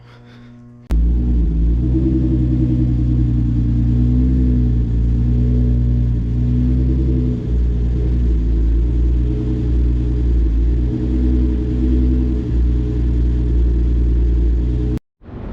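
Infiniti G35 coupe engine cold-starting after sitting a few days, with a sudden catch into a loud, steady, deep idle rumble that holds evenly for about fourteen seconds before cutting off abruptly.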